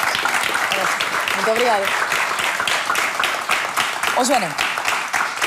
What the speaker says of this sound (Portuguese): A CC, uma salva de palmas